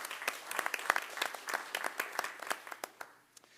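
Scattered applause at a city council strategic planning session, with distinct individual hand claps from a small group that thin out and fade toward the end.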